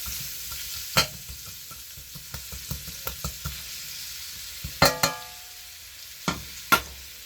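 Food sizzles steadily in a hot pan during meal prep, broken by sharp scraping and clacking strokes of a utensil stirring it, a few louder knocks near the middle and end, with no talking.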